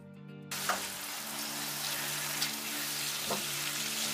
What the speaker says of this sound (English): at this moment, I'm going to be adding my chopped tomato